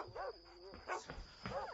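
Dogs barking in a horror movie scene, three sharp close barks spaced out in an uneven rhythm, with a whining yelp between them against a quiet background.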